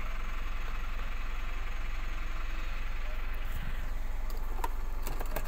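A Mitsubishi Pajero Sport engine idles right after starting, a steady low rumbling drone with constant vibration throughout, close by, with a few faint clicks near the end.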